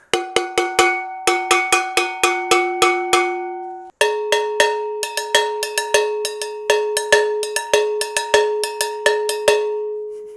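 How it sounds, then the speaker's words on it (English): Cheap cowbells struck with drumsticks, sounding bright, ringy and close, in quick rhythmic patterns of repeated hits on two differently pitched bells with a short pause midway. "they are definitely cowbells, and they sound like cowbells"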